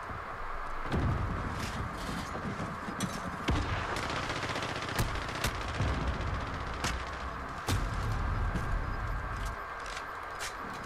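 Rapid gunfire from Call of Duty: Modern Warfare in a multiplayer match, with dense automatic bursts and sharp single shots crackling continuously over roughly eleven seconds at steady loudness.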